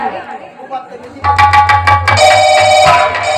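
An electronic phone ringtone starts up and repeats in a bright melodic pattern, while people talk loudly nearby.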